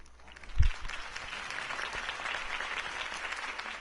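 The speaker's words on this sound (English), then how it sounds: "could have heard that applause" A crowd applauding in the video game Batman: The Telltale Series, a steady, dense wash of clapping that follows a single low thump.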